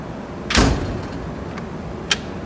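A drawer on a Snap-on EPIQ tool chest slides shut with one solid, close, rolling thud, followed by a small sharp click of metal a moment later.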